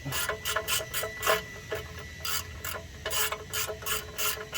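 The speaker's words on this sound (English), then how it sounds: "We're going to tighten down the bolt." A ratchet tightens the oil drain bolt on a Ford Crown Victoria: quick bursts of close, crisp clicking come in an uneven rhythm of strokes and pauses.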